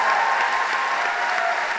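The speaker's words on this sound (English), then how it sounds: "I want to give a big round of applause to these amazing people." An audience claps in dense, sustained applause at a live show featuring extraordinary human performers, steady and loud throughout the short burst.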